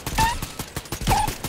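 Rapid gunfire from a gun in the video game Fortnite comes in a quick string of close, sharp shots, with brief tonal game effects over the top.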